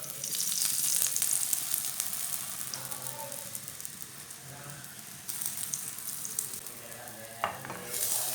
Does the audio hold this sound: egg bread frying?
yes